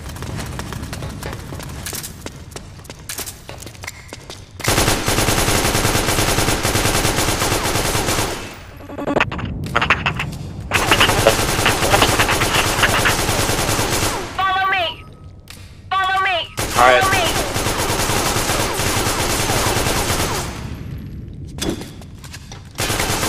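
In the video game Metal Gear Online, an AK rifle fires in rapid bursts with brief quiet gaps between them, loud and fairly close in a busy online match.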